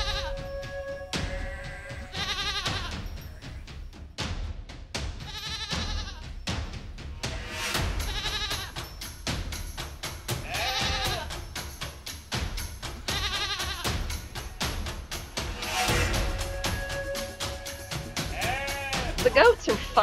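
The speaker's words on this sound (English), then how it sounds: "it's right next to this pasture with a bunch of goats" Goats in a pasture beside an RV park bleat again and again, some calls near and others farther off. Other noise runs underneath, and a voice may be present.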